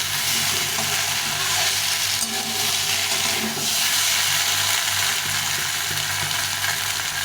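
Ground spice paste for a thin fish curry fries in a pan with a loud, dense, unbroken sizzle and hiss, close up and alone, with no voices.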